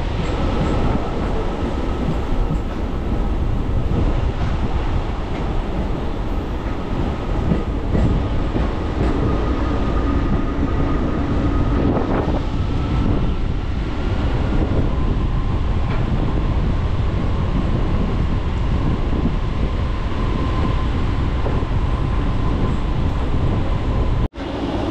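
A Digha Rath Yatra special passenger train rolls into Ramnagar station, its steady loud rumble and wheel clatter filling the space up close with no voices.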